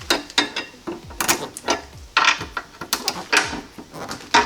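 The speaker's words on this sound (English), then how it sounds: "This is the same socket I use to run the lug nuts." A socket wrench ratchets rapidly as it tightens the mount of an LED ring brake light fitted on a spare tire, giving dense, close clicking strokes in quick uneven bursts.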